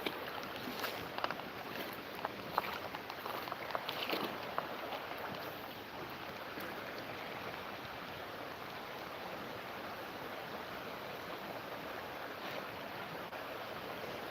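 Creek water rushing steadily before a storm, a faint, continuous wash of flowing water with a few soft splashes and knocks early on, no voices.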